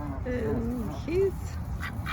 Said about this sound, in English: this is Canadian juvenile ducklings